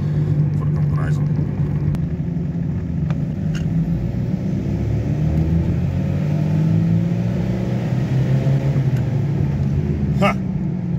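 BMW E46 320d diesel accelerating on a light-throttle run, heard from inside the cabin as a steady loud engine rumble with rising drone through the gears and a brief lift between shifts.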